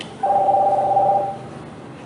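A telephone rings with one sustained electronic tone burst lasting about a second, clear and close in a quiet room, then fades into low background hiss.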